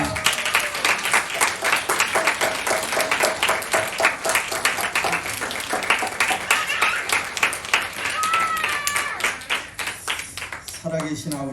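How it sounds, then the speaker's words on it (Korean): A church congregation at a Sunday service claps to welcome an elder coming up to preach, a dense, sustained burst of many hands with a voice speaking over it, trailing off near the end. "나오실 때 우리 큰 박수로 환영하도록 하겠습니다."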